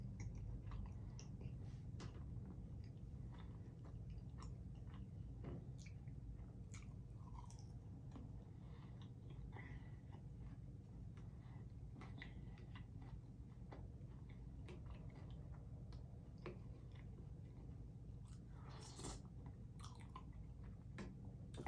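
Curly fries being eaten up close, with soft repeated chewing and occasional crisp bites and clicks scattered over a steady low background hum.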